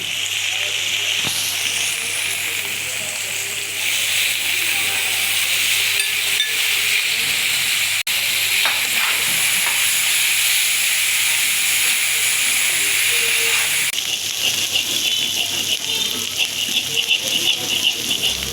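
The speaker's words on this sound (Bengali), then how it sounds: "মাছগুলি এভাবে আস্তে আস্তে ভাজা করবো" Small fish fry slowly in a pan, a continuous loud hiss and sizzle lasting throughout, with a brief change partway and a voice speaking over it.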